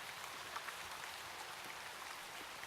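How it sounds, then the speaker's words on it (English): Rain falls in the video game Shroud of the Avatar as a soft, even hiss of water that runs without a break and stays quiet throughout. "There's like a lot of water sound effects going on right now."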